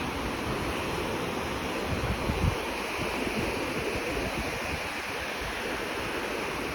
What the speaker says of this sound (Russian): посмотрите, какие волны.